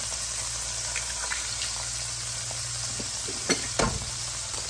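Pad Thai with shrimp and egg stir-fried in a hot pan at a street-food stall, a loud steady sizzle broken by scraping stirs and a couple of sharper clanks near the end.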